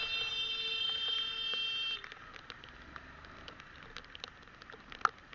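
A motorcycle's turn-signal indicator gives a steady electronic beeping tone for about two seconds, fairly faint, then stops, followed by quiet background with a few small clicks and taps.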